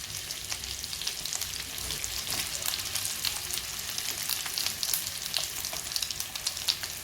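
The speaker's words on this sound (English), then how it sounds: "The garlic and ginger paste has started to fry now, so I'm going to add in the onions." Sliced onions fry in a garlic and ginger paste for an egg curry, giving a steady, close sizzle with a light stirring crackle that runs unbroken throughout, with no talking.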